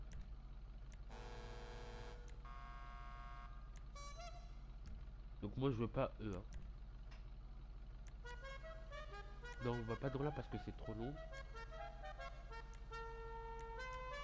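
Several old car horn sounds from a Chinese-made vehicle are played one after another, with separate tooting tones, some steady and some warbling, heard fairly faintly while people talk in between.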